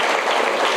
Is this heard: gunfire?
no